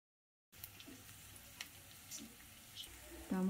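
Ginger, garlic, green chilli slits and onion frying in hot oil, a soft low sizzle that starts after a moment of silence and builds with a louder clatter near the end.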